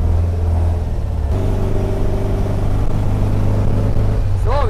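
A car engine fitted with twin carburettors drones steadily while driving the first few metres, a loud, close, continuous low rumble with a slight shift in pitch partway through and no talk.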